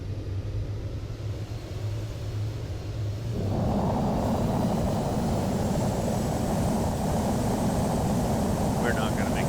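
An airplane in Microsoft Flight Simulator taking off from runway 27 on a straight-out departure, its engine rising abruptly from a low idle to a loud, steady roaring rumble that holds to the end, with no talk over it.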